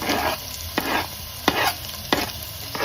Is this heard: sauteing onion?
yes